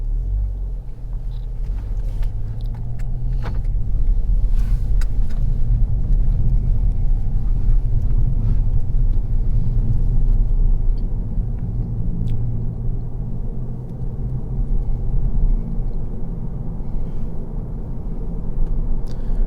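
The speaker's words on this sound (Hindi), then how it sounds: "बाकी अब एक काम करते हैं, इस गाड़ी को ड्राइव करके देखते हैं। Let's go, we are going on the track now." A 2025 Skoda Octavia RS driven on a race track in sport mode, its engine a deep continuous rumble with road roar that swells and eases as it accelerates, loud and close, with no talking.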